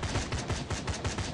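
Rapid automatic M16 rifle fire in the survival shooter game D.O.Z. Survival, about seven sharp evenly spaced shots in quick succession, loud and close with no talking.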